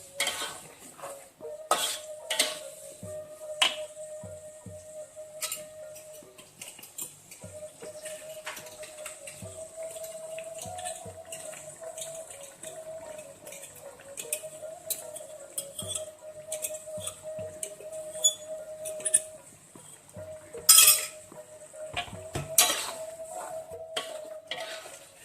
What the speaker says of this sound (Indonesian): Jangan lupa diaduk-aduk terus.